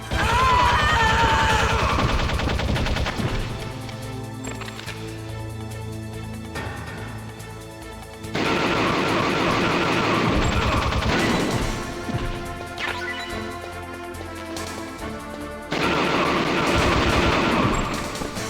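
Bursts of automatic gunfire in the stealth game Metal Gear Solid, loud and sustained in long stretches with brief lulls between volleys, set over a steady game music bed.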